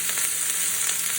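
Carrots, celery and garlic sizzle steadily in a hot pan while cooking for braised pork shanks, a continuous bright crackling fry with faint stirring.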